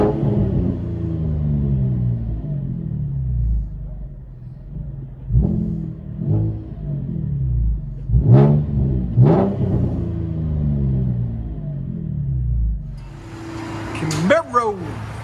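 From inside the cabin, a Chevy Camaro 3.6L V6 with an aftermarket exhaust drones at idle, then rises in several quick revs. Its deep rumble stays loud throughout, and a voice speaks near the end.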